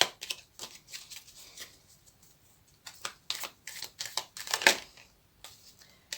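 Cards from a Lover's Oracle deck are handled and drawn, giving soft papery shuffles and light flicks in scattered bursts, quiet and close, with no voice.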